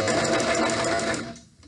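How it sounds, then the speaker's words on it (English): A sewing machine backstitches the seam of a pillowcase in one short, loud, fast mechanical whirr that fades out at the end. "I'm going to now backstitch"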